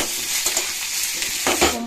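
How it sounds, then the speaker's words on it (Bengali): Potatoes frying with spices alongside pumpkin and dried chilli in a hot pan, a steady bright sizzle with a couple of stirring scrapes near the end, close and without talk. "এবার আলু দিয়ে দেবো, দিলাম আলুর সঙ্গে ভাজবো লাল করে।"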